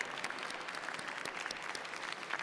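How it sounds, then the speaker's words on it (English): Party congress audience applauds a presidential candidate, a steady, dense patter of many hands clapping at moderate distance. "A big round of applause for our presidential candidate."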